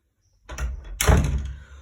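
Wooden door being handled, a soft bump followed by a louder thud or knock near the end, close and brief, without talk.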